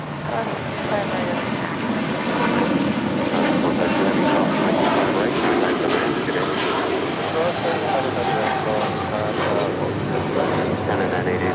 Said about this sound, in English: This is Air China 988 departing to Beijing on a 777-300ER